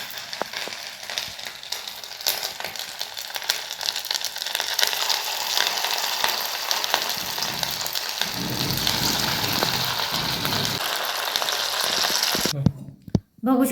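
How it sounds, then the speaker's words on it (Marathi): Rava medu vada, semolina fritters, fry in oil over a low flame, giving a steady, dense crackling sizzle that runs continuously at moderate volume before a brief clatter at the end. "ते या प्रकारे छान असे तळून घ्यायचे आपल्याला बारीक गॅसवर."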